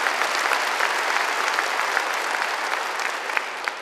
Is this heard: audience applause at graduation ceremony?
yes